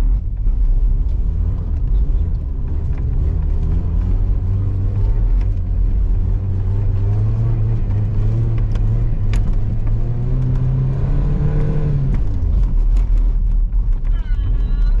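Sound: pickup trucks drifting on snowy street, engine revving

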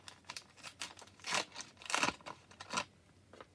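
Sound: opening a paper packet

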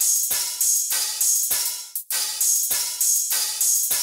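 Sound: crash and ride cymbal percussion samples

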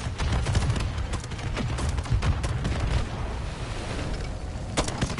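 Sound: grenade explosion in a video game

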